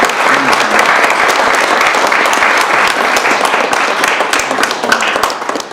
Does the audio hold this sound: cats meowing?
no